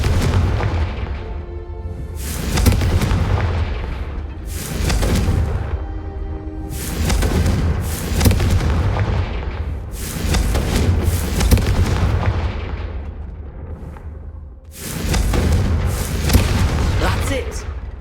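Repeated booming blasts of the Confringo fire spell in a wizarding action game, about six heavy bursts in a steady rhythm, loud and close, with voices speaking between and over them.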